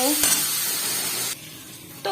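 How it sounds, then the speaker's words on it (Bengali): Water poured into a pan of sautéed spice paste for pabda fish curry, giving a steady hiss and sizzle that drops abruptly partway through, with a brief clatter at the start and end. "মশলাটা কষানো হয়ে গেছে আমি এখন জল দিয়ে দেবো"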